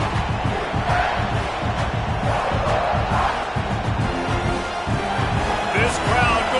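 Stadium crowd roar in the NCAA Football 26 video game, a continuous loud wash of cheering and chanting fans in a packed college football stadium, with a commentator talking over it throughout.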